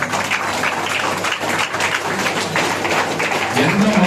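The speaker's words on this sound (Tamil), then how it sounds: "நம்ம தான் கைத்தட்டி உற்சாகம் பண்ணணும்" An audience of party members claps at a political gathering welcoming people with disabilities, brief moderately loud clapping with crowd noise and a voice rising near the end.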